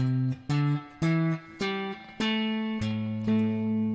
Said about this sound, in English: A minor pentatonic scale